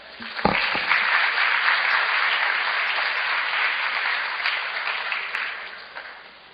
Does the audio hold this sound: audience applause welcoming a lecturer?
yes